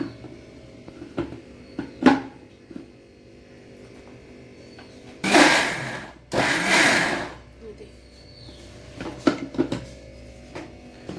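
Mixer grinder blending grated coconut with fermented rice batter and a pinch of salt, running in two short loud bursts of a few seconds each, with quieter kitchen clatter and thumps before and after.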